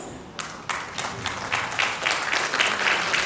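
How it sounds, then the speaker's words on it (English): Clapping from the audience at an international academic conference in Seoul starts with a few scattered claps and quickly swells into fuller applause that grows steadily louder. "Please give a round of applause."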